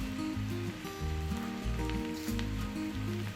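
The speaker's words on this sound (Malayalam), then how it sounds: "ഇത് എണ്ണയിൽ നന്നായിട്ടൊന്ന് മൂപ്പിക്കണം, ഒരു ബ്രൗൺ നിറാകുന്നത് വരെ." Sliced shallots, dried red chilli and curry leaves sizzle in hot oil for a Kerala tapioca and coconut milk dish, a steady crackling fry with no voices.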